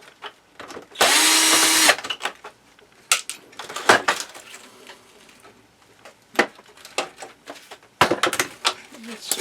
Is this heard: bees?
no